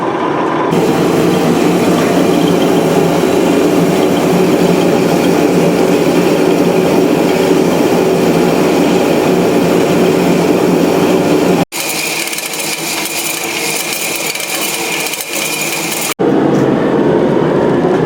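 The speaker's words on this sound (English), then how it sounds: "Sorry, I'm going to put it in power feed." Milling machine running on power feed in a home workshop while parts for a homemade overhead-valve Briggs engine are machined, a loud continuous mechanical drone with a steady whine, cutting briefly to a different take with a higher tone.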